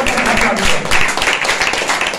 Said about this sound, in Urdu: زوردار تالیاں زندہ خدا کے لیے